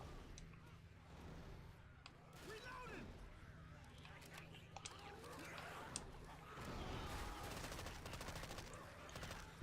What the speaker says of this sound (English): the regular sound effects for the vanilla guns in this game are just really loud